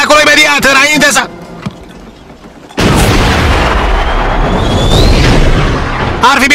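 A cartoon explosion erupts in a room filled with gunpowder and explosive gems, a loud broad blast with rumbling debris that sustains for several seconds after a brief lull following speech.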